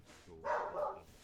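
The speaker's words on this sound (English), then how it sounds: "I was saying sorry because my dog barked" A single short dog bark, faint and slightly distant, heard alone in an otherwise quiet room.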